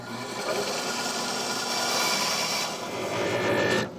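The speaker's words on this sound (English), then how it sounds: "I'm in the process of rough cutting the outline on the bandsaw." A bandsaw rough-cutting the outline of a bow riser made of wood and fiberglass, giving a continuous rasping, grinding cut that holds steady for about four seconds before easing off at the end.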